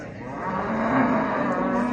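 A cow lows in a long, steady moo at the Maştağa livestock market among sheep, goats and cattle, close and clear over a continuous busy market hubbub.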